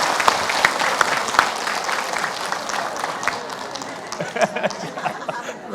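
An audience at an Islamic talk-show taping applauds for a guest, a steady wash of clapping lasting throughout with scattered chatter and a little laughter mixed in.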